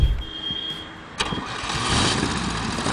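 An Amazonas 1600 motorcycle powered by an air-cooled VW Beetle 1600 engine cranks briefly, then catches and settles into a rough, loud idle close by, with no voices.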